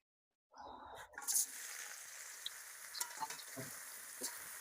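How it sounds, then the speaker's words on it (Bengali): Soybean chunks dropped into hot oil and frying, a sudden loud crackle settling into a continuous close sizzle with small pops, no talk. "ডালের বড়া ভাজার পরে সয়াবিন আমি ভাজা নেব।"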